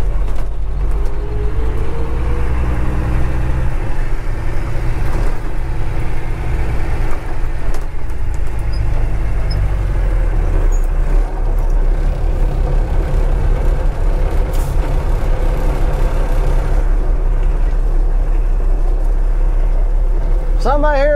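An old commercial truck with a manual transmission sits idling, its low steady diesel drone continuous and close for the whole stretch, with a voice talking over it near the end.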